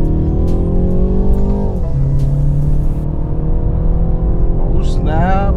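BMW 330i M Sport accelerating hard from a rolling start in a race against a 530d, with a loud, close engine note rising through the gears from inside the cabin, and a brief shift dip midway.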